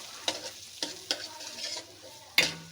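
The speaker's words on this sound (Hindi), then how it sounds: "और इसको अच्छे तरीके से सूजी को हमने भून लेना है" Semolina roasting in hot ghee with cardamom pods over a low flame, soft frying hiss broken by several sharp spatula scrapes and knocks against the pot, close up with no voices.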